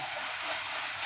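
Chicken pieces added to oily, fried spice paste in a pan for village-style chicken kosha: a loud, steady hiss of sizzling with no talk.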